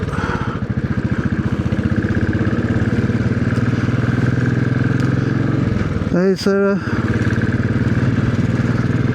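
A Royal Enfield Classic 500 motorcycle on a test ride, its single engine thumping steadily and loudly throughout, with a brief revving burst near the end and a rider speaking a few words.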